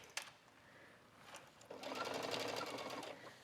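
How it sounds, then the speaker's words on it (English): Short bursts of a sewing machine stitching a denim shirt-dress sleeve placket, a faint start followed by a steady, louder run of close mechanical stitching. "And I'm just going to stitch to the end."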